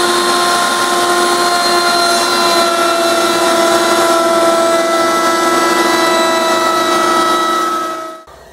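Steady high-pitched whine of a router table spinning a chamfer bit through wood, loud and continuous for several seconds before the motor cuts off abruptly at the end.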